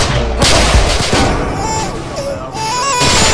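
Gunfire in a video game set on city streets, loud bursts of shots at the start and end, with game sounds and voices talking throughout.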